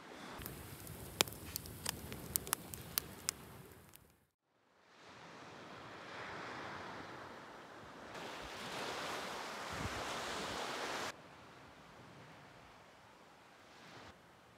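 Steady wind roaring past the microphone by the sea near Lyamtsa village, Russia, with broadband gusts and surf-like rushing; a sharp burst of crackling taps at the start, then a swell of louder gusting.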